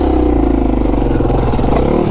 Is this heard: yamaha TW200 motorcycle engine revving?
yes